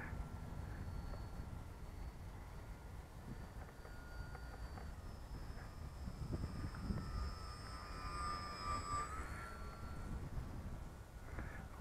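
Da Vinci Flyer model biplane with a new fuselage and a homemade pilot figure flies overhead, its faint whining motor drifting in and out over steady wind noise outdoors.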